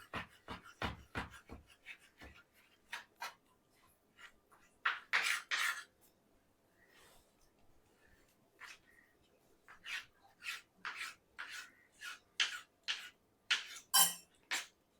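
Knife chopping vegetables finely on a board for a side dish with tender coconut curd rice, a run of quick sharp close taps in bursts with brief pauses, no talk.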